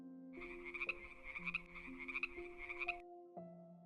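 A frog croaking in rapid pulsed bursts over a background of sustained musical tones, the croaks loud and close, repeating in a quick rhythm for about three seconds before the music carries on alone.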